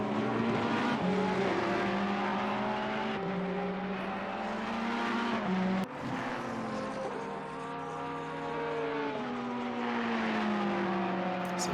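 Several GT race cars run around the Kyalami Grand Prix circuit in a racing video game. Engines whine and rise through the gears, dropping sharply at shifts, with overlapping cars close by and continuous over the whole stretch.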